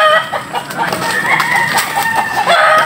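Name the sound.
rooster crowing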